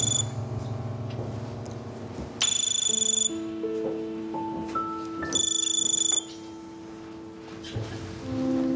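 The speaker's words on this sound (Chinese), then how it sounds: "铁头，怎么这么久才接电话？" A telephone rings in two loud, bright bursts separated by a pause, each a rapid electronic trill, over a drama's soft sustained background music.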